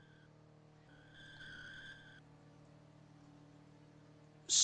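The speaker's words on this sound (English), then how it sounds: "Somewhat nice drift, I guess." Tires skid in a brief drift of a game car in Roblox, a faint hiss swelling around the middle of the clip over a low steady engine hum, followed by a sudden loud burst at the very end.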